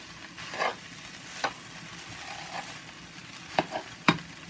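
Leftover rice with eggs and vegetables is stir-fried in a pan: a constant sizzle under a handful of sharp spatula scrapes and taps, close by and with no voices.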